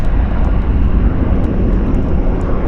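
A CH-149 Cormorant helicopter flies inbound at an air base media day, giving a loud, steady, close roar of turbine and rotor noise with no pauses.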